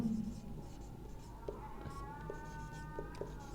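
A pen scratches across paper while working out an arithmetic progression sum, soft steady strokes with a few faint taps, close, under a low background hum.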